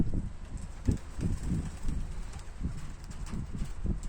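Young pigeons in a loft shuffle and coo softly, with repeated low fluttering thumps and rustles close by, a steady murmur of birds throughout.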